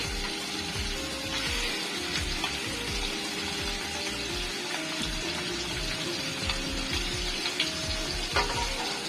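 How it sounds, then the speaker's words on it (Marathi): Prawns added to hot oil with browned garlic, giving a continuous, fairly quiet crackling sizzle with a few brief pops and clicks throughout, no talking. "आता हा कोळंबी मी आता लसूण लाल झाला आहे ह्याच्यामध्ये मी टाकत आहे"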